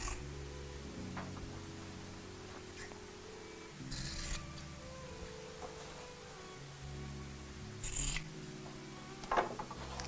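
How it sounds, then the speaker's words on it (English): Scissors snip through fabric at the corners of a cushion cover being sewn into a tote bag, short quiet cuts around 4, 8 and 9 seconds over a low steady hum, with no talking. "I'm just going to cut off the corners so they're not bulky"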